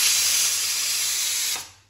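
A pressure cooker cooking dal vents steam through its whistle in a steady, loud hiss that holds for well over a second, then cuts off abruptly.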